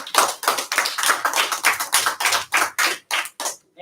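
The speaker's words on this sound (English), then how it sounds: "So applause for you, applause for each other" A group of students in a history classroom claps in a steady, rhythmic run of sharp, distinct bursts that gradually thin out toward the end, with no talking over it.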